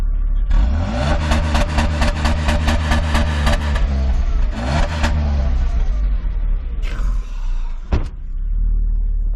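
A 2006 SsangYong New Chairman with 200,000 km is started and revved, its engine rising in loud pulsing exhaust bursts, then settling before a sharp thud near the end, close by.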